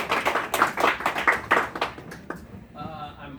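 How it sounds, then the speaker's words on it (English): A small audience at a union campaign event in an Iowa bar gives a brief round of applause, a quick burst of close hand claps lasting about two seconds before it dies away and a voice starts talking. "So, Let's give Martha a round of"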